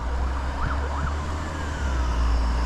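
A distant siren wails in a couple of rising and falling sweeps, faint under steady traffic rumble.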